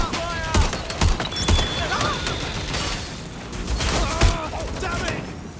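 Rapid bursts of gunfire from the video game Watch Dogs: Legion, loud sharp shots in clusters with battle noise and scattered game sounds throughout.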